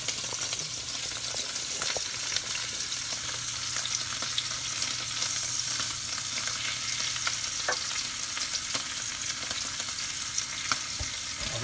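Sous vide steaks searing on a hot griddle make a dense, constant close sizzle with scattered pops and crackles, steady throughout without talk.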